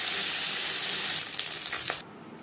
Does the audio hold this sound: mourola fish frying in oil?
yes